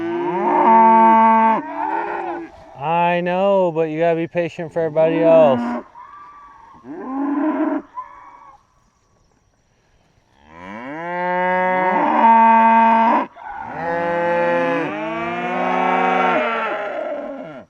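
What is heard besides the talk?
cows mooing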